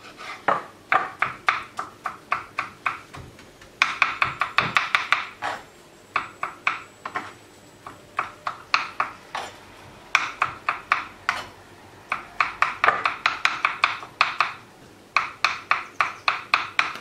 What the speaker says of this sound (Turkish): Soyduğumuz patlıcanları şimdi küçük küçük doğrayacağız.